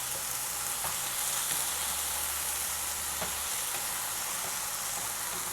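Spinach sautéing for a keerai poriyal, a steady close hiss of frying with occasional soft scrapes and taps as a spatula mixes the leaves in the pan.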